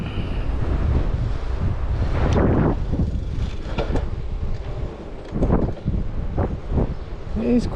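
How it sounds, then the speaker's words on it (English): Gusty wind blowing outdoors on a cycling ride, buffeting loudly across the microphone in uneven surges, with a voice talking in bursts over it. "Quite windy today."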